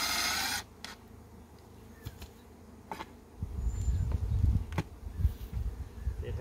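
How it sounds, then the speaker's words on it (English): Honeybees in a four-frame nuc hive buzz close by with a low droning hum that swells and fades, broken by a few sharp clicks and knocks. "It has bees and a queen."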